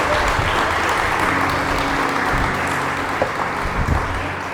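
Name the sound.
applause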